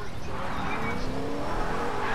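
A car engine drives in Fortnite, droning steadily and close with rising revs and scraping tire noise, set within busy game sound.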